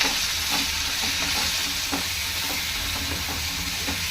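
Tamarind and a little rock salt roasting in a pan on the stove, giving a continuous close sizzle and crackle with soft stirring scrapes throughout and no talking.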